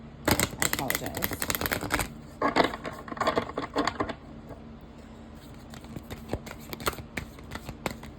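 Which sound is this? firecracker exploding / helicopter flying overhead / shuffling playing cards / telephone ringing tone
shuffling playing cards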